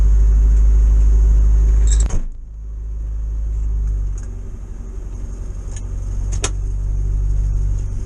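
A 1962 Morris Minor car engine runs just after its first start on choke. It begins with a loud, close idle that cuts abruptly, then settles into a steady lower rumble with a few faint clicks.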